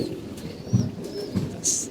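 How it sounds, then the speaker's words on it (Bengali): Pigeons kept for flying give soft low coos in two or three brief bursts, close by, with faint chirps above and a quiet background. "কবুতর এখন উড়াইতে হবে"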